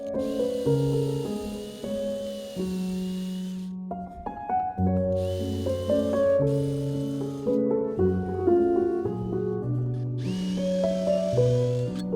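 A power drill whirs through wood in several bursts, boring holes for mounting screws, its pitch shifting as it bores, with brief pauses and soft scraping between runs.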